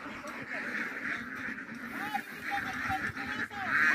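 Ducks quacking and honking in short calls at moderate distance outdoors, mixed with ongoing voices of people talking nearby.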